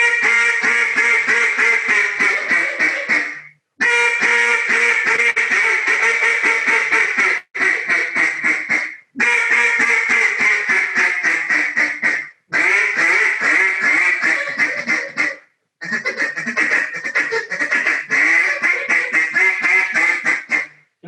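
Duck call blown in a chit chat calling style, bursts of rapid, clipped quacking notes in long runs separated by short pauses, loud and close.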